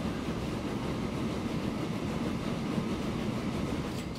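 Trains running in the simulation game Transport Fever on a UK and Ireland map, a continuous rumbling rail roll with faint clickety-clack, steady and moderately distant.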